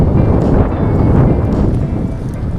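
Strong wind at sea during a hot, sunny day out on a fishing trip, a steady loud rush and buffeting close to the microphone with no pauses.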